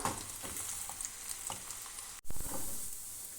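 Garlic fries in hot oil for a Kerala-style beef pickle, giving a soft, steady sizzle with light stirring clicks. A brief dip in the sizzle is followed by a louder burst.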